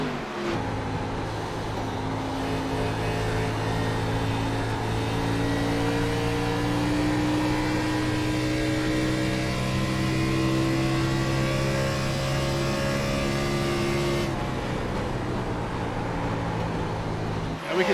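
A race car engine roars steadily at high revs for the whole stretch, pitch climbing slowly then dipping near the end, loud and close.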